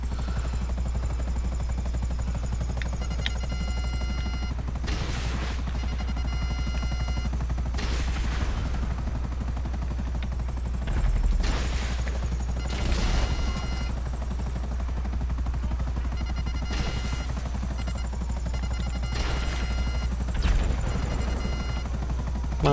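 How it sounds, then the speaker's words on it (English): A helicopter flies in the video game GTA 5, producing a continuous low rotor drone for over twenty seconds, broken by periodic louder bursts of noise. "I'm flying a helicopter and blowing crap up"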